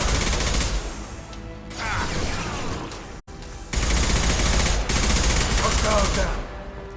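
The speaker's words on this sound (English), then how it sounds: "Firing concussive shot." Concussive shots and gunfire in Mass Effect 2 come as loud bursts of rapid automatic fire, broken by a sharp instant of silence before a second heavy volley, with a voice faintly underneath.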